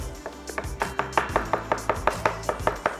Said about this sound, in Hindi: ऐसे वुडन स्पून से इसको मोटा मोटा चॉप कर सकते हैं